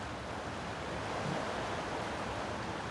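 Sea waves at a shore, heard as a steady, loud, broadband rush of surf and wash that holds constant throughout, with no voices.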